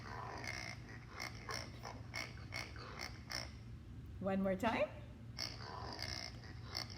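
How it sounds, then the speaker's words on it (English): A pig gives a series of short, rhythmic grunts and oinks in two bursts, with a narrator briefly speaking between them. "Did you guess a pig?"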